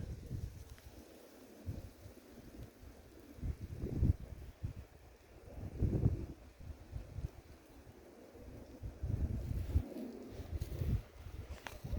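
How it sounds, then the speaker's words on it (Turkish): Strong wind roars and gusts across the microphone in surging waves, a low blustery rumble with no talking. "Çok fırtına var."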